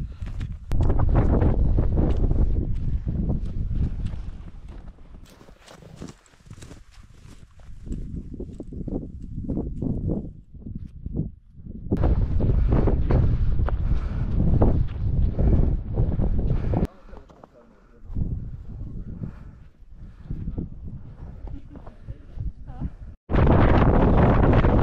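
Strong winter wind buffeting the microphone on the Snowdon summit, loud roaring gusts that rise and drop in bursts, with quieter lulls between.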